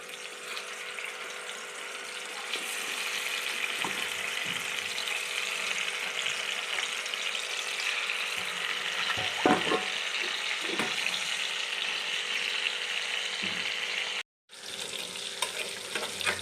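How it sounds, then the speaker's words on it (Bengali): Fish frying in hot mustard oil in a pan for a dahi katla curry, a steady close sizzle and crackle that continues throughout, with a few soft knocks and a brief dropout. "এবার মাছগুলো আমি দিয়ে দিচ্ছি ভাজার জন্য"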